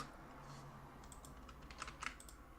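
Keys clacking on a computer keyboard in a short, uneven burst of typing, faint and close, with the strokes bunching toward the end.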